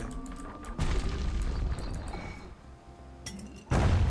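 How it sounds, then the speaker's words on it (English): A grenade goes off in the video game Bastion, heard as muffled low booms amid game ambience, with a second heavier thud at the end. "A grenade."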